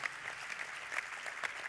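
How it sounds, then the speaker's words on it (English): Faint audience applause at the Doha GOALS 2014 youth forum, a thin continuous patter of clapping from a distant crowd with small scattered peaks, heard alone. "Let's give Stephen a round of applause, ladies and gentlemen."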